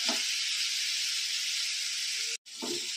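Mango pieces for pickle fry lightly in oil, giving a steady, bright sizzling hiss close by, broken by a brief silent cut before the sizzle resumes.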